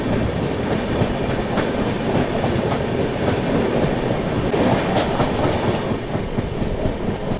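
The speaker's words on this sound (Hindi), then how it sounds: "यहाँ पटना से चलकर कोटा की ओर जाने वाली पटना कोटा एक्सप्रेस" A Patna–Kota Express passenger train rolls past close by, a steady loud rumble of wheels with rhythmic clickety-clack over rail joints continuing throughout.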